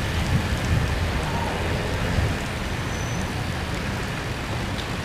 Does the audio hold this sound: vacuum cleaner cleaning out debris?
no